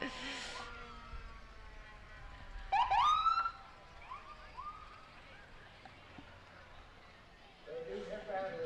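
Police car siren passing in a 4th of July parade in South Norfolk, a brief rising wail around the middle of the clip over crowd murmur and talking voices, with other parade noise before and after.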